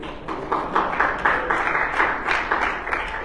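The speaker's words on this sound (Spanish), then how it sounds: "un aplauso al Señor por eso." A church congregation applauds during a Sunday Spanish-language sermon, a dense, steady wash of many hands clapping with rhythmic surges, fairly close and loud, with no speech over it.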